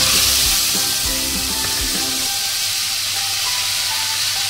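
Ground spice paste sizzles in hot oil with tempering spices for Bengali dhokar dalna, a steady close frying hiss with a few soft clatters early on, then an even crackle to the end.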